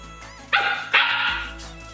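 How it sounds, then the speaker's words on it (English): Dogs bark indoors in two loud, close barks about half a second apart, with a low steady hum beneath and no talking. "Sorry about my dogs."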